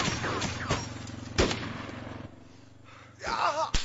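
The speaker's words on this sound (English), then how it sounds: "Opman and Ruff exchanging heavy fire here." Heavy gunfire trades back and forth during a competitive shooter match, with sharp loud shots and rapid bursts, a quieter lull, then another close volley.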